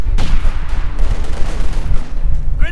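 A video-game battle rattles with rapid, loud gunfire from Panzer Grenadiers firing Sturmgewehr assault rifles, shots overlapping into a continuous fusillade with booming low rumble.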